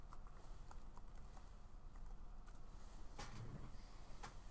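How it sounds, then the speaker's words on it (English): A password being typed on a computer keyboard, heard as quiet, uneven key taps with a brief flurry of clicks near the end, all fairly faint against a low background hum. "now we can actually type in the password"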